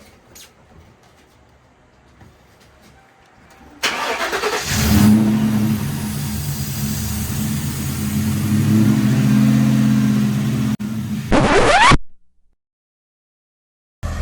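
A Ford Crown Victoria, freshly fitted with new spark plugs and coils and a cleaned throttle body, cranks and fires into a rough startup, then revs and holds a loud close idle before shutting off abruptly.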